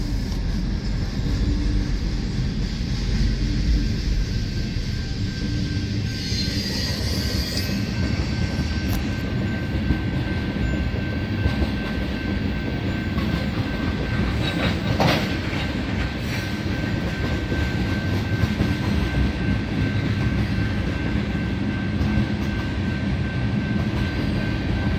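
A Union Pacific freight train rolls past nearby with distributed power units, a steady heavy rumble and rattle of cars lasting throughout, with a thin sustained high tone from wheel flanges and a brief sharper squeal midway.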